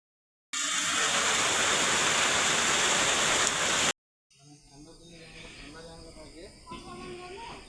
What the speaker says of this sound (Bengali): তো গাইস বৃষ্টি চলে আসলো এখন।